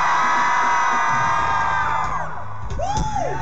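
A festival crowd at Rock Werchter screams and cheers for a rock band in a loud, sustained roar that thins slightly toward the end, with a few whoops rising above it.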